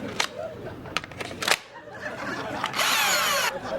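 KD 700 power drill whining in short bursts with clattering and handling noise between them, ending in a longer, louder run of the motor.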